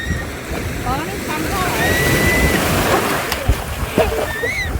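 Sea waves rolling in and washing back around a small boat out on the water, a steady broad wash with wind noise and scattered splashes, while people talk and exclaim over it.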